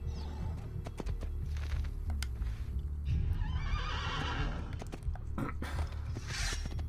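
A horse in Assassin's Creed 2 whinnies loudly over steady clip-clopping hooves and faint creaking tack, the neigh rising and falling across the middle of the stretch.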